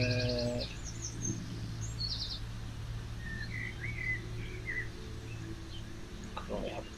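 Birds chirp and tweet in short bursts outdoors, moderately distant, over a steady low hum.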